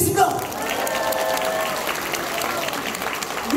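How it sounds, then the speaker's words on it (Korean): Audience applause at a Democratic Party regional leaders' rally in Busan, a steady wash of clapping from a crowd that holds for several seconds, with a voice speaking over the start. "박수 부탁드리겠습니다."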